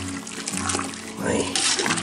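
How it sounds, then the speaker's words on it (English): Crawfish being stirred into a boiling pot, with a close splashing, churning water sound that swells toward the end, a steady low rumble of the boil underneath. "it's time to add a crawfish in the pot. We're going to give it a stir."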